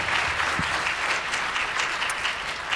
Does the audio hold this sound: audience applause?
yes